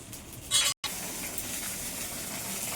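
Pieces of pabda fish slipping into a simmering curry with fried potatoes, a brief splashy hiss followed by a steady close bubbling sizzle.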